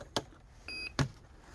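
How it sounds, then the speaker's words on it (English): A short electronic beep tone lasting a fraction of a second, framed by two brief clicks, in a quiet setting: the startup sound of a sound unit in a Bruder D11 model conversion. "beep is the startup sound for it"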